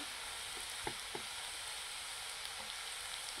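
Onions frying in a pan for a homestyle cashew and potato curry give a steady, even sizzle, with a few soft clicks of stirring and no talking.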